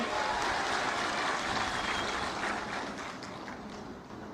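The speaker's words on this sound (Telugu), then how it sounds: "మెరుగ్గా వస్తున్నాయంటే గట్టిగా చప్పట్లు కూడా చెప్పండి వస్తున్నాయని" Large crowd applauding at a political rally in Andhra Pradesh, a dense steady wash of clapping that starts loud and gradually thins and fades, with no voices over it.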